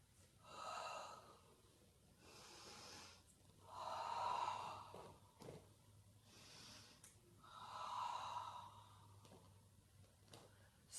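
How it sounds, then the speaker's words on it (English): Three slow, full breaths during a Pilates exercise, each a soft airy inhale and exhale swelling and fading at an even pace, quiet and close. "3 full breaths in that exercise"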